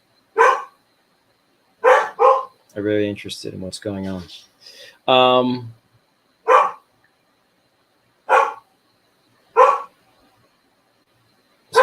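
A talkative dog barks in short, loud, spaced-out bursts, single sharp barks and quick doubles, with a person talking at length between them.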